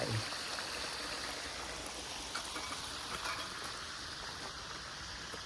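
Water from a garden waterfall and fountain flows in a steady, dense wash of splashing, constant and fairly close, with no clear talking over it.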